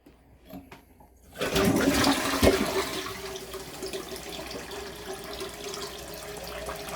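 A Kohler Highline Curve toilet flushes close by, starting with a sudden loud rush of water after a second of near silence and easing into a steady refilling hiss and trickle that carries on to the end.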